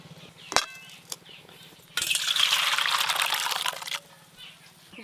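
Water is poured into a pot of cooking dal, a loud splashing gush for about two seconds, framed by a few metallic clinks of utensils against the pot.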